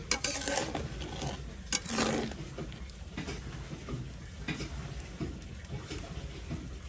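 Meat being stirred as it fries in oil-releasing spice masala, a soft sizzle beneath irregular scrapes and knocks of a spoon against the pot, close and fairly quiet.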